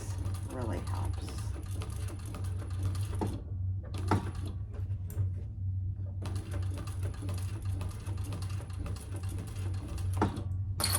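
Sewing machine stitching a wallet, running in steady mechanical bursts with brief pauses and a constant low hum, fairly close, with a voice speaking over parts of it.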